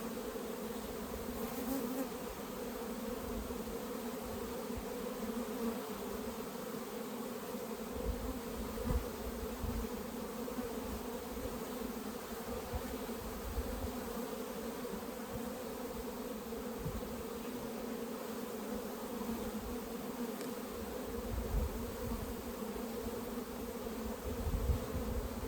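Honey bees hum steadily inside an open hive during a manual colony split, a dense continuous drone with no speech, close and even in level throughout.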